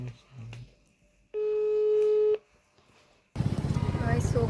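A phone call being placed: a single long, loud ringback tone sounds clearly for about a second between quieter stretches, followed by a burst of loud, rhythmic noise.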